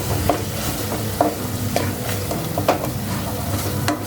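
Boiled macaroni tossed with chaat masala in a hot pan gives a loud, close sizzle, broken by repeated scraping clicks of a spatula as it is stirred.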